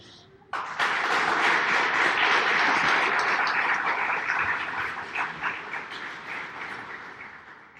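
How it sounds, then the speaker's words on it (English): Family and friends applauding at a graduation ceremony, a large hall crowd breaking into loud sustained clapping after a brief quiet opening, then slowly fading toward the end. "would you please give family and friends an applause?"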